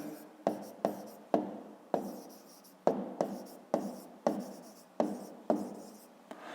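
A pen or pencil writes numbers on paper in a steady series of about a dozen crisp strokes and taps, close and fairly quiet, with no talking.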